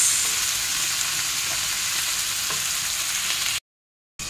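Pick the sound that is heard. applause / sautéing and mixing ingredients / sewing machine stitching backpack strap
sautéing and mixing ingredients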